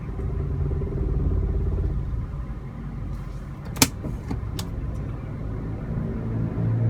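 Car creeping forward on the clutch during a driving lesson, a low steady idling engine hum inside the cabin, a sharp click midway, then the engine note rising slightly toward the end.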